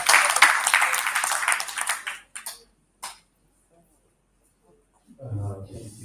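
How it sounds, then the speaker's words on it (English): Conference audience applause in a hall, a dense burst of clapping that fades out over about two seconds, followed by a few scattered claps, a pause, and then a voice speaking. "Can we give them a round of applause,"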